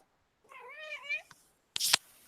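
A cat meows close up in one drawn-out, wavering call, then a short rough burst of noise follows in an otherwise quiet room.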